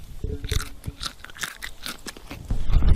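Fresh peanuts being bitten and chewed, giving repeated close, crisp crunches in an irregular rhythm with no talking.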